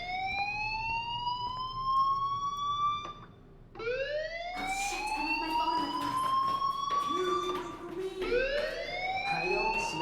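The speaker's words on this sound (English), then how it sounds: "Hey, do you hear that fire alarm?" Fire alarm ringing in the video game Life is Strange, a loud rising electronic wail repeating in sweeps, briefly dropping out midway, with short noisy bursts and game sounds over it.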